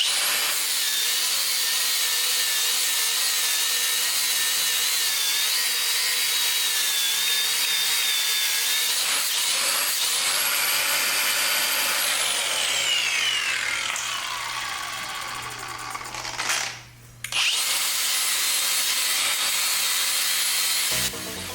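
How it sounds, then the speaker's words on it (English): Four-inch angle grinder fitted with a knotted wire wheel scrubbing a hub on a 1961 David Bradley tractor axle, a steady loud high whine with harsh grinding texture that winds down and briefly pauses near the end. "So I got my 4-inch grinder with the knotted wheel on there."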